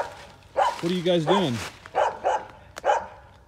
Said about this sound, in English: a dog that will not shut up